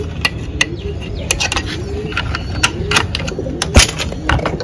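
Punjabi pigeons released from a small net give low soft coos amid repeated sharp wing flaps and rustles, close by and busy, with one louder knock near the end.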